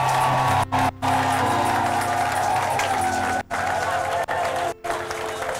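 A church congregation in Paris claps and cheers for the fathers in sustained, dense applause with a few brief drops, crowd noise filling the hall throughout.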